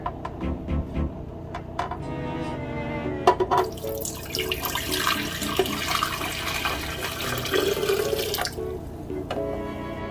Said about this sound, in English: you could pour the water that was left from the tomatoes and the chiles into the blender